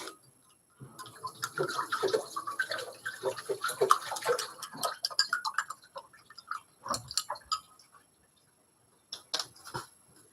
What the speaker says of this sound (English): Whilst I go and wash food colouring off my hands.